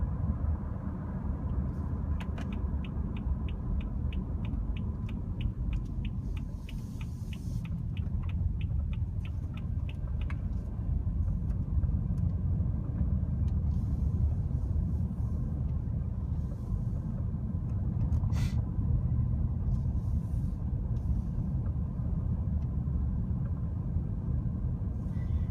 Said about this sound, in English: this is going to conclude the night test drive and demonstration of the automatic high beams in our new 2014 BMW 328i